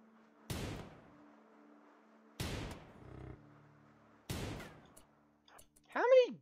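Three sharp gunshots a couple of seconds apart, fired at a turkey in the RimWorld colony-building game, each crack fading quickly against a quiet background, with a short burst of voice near the end.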